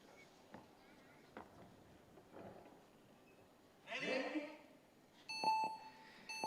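A few short electronic race start beeps sound at the end of a speed finals swimming event in Rome, following a burst of crowd noise and faint scattered clicks.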